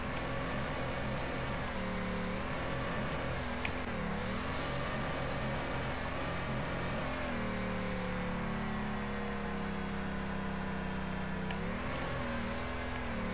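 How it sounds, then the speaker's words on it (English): A 1969 Mustang's V8 crate engine runs loud and close from inside the car, its pitch rising and falling through repeated revs and gear changes without any talk. "This V8 just isn't producing the high RPMs that I'm used to driving."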